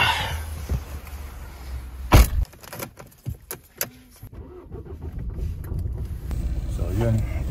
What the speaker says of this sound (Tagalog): Gulo ng kotse.